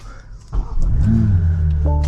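A 2025 BMW M4 Competition Convertible fires up and settles into a loud, steady idle, with a deep low rumble that rises sharply and then holds at close range.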